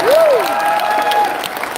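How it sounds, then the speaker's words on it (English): A crowd at a live Anime Matsuri panel event gives a short burst of applause, with dense clapping and a faint whoop or whistle mixed in. "we need to give him a round of applause"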